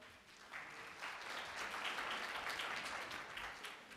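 Audience applause at a morning session of a citizenship and immigration law event, steady dense clapping that swells after a brief quieter start and holds for about four seconds, moderately distant.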